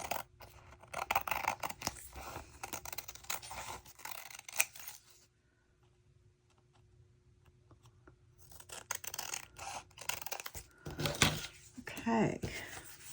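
Paper being trimmed for a handmade doodle journal, with close scissor snips and rustling paper handled under a voice, followed by a quiet gap and more cutting and crinkling.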